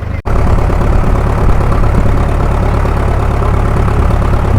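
A loud boat engine chugs steadily up close with a low, constant rumble and no other sounds, at sea near Shiyalbet island, Gujarat.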